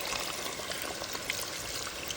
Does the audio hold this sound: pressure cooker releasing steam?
no